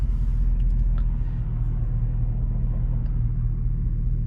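A Dodge Charger engine hums low and steady from inside the cabin while driving with the gas barely pressed, a constant rumble with no revving or speech.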